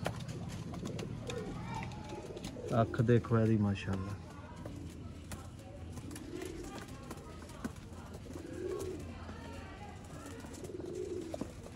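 Sialkoti pigeons coo in soft, low, throaty rolls, with one clear burst near the start and fainter coos repeating later, while someone talks over them.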